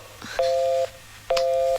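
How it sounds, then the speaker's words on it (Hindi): Phone line tones after a call is cut off: two steady electronic beeps, each about half a second long, separated by a short gap, loud and alone without talk. "फोन कट गया।"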